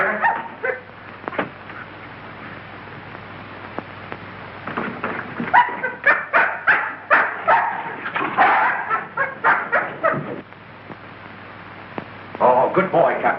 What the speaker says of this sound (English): This dog's been struck a nasty blow.